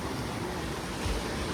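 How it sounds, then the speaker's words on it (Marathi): Sea waves at high tide on the Shrivardhan shore, a steady wash of surf mixed with wind buffeting the microphone, with no voices. "इकडे भरती बघा म्हणजे इथपर्यंत लाटा येतात सगळ्या पाण्याच्या"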